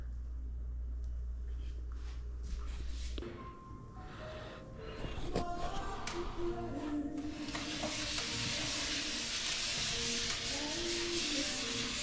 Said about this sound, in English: we're sanding with sanding sponges. Trying to get this nice and flat.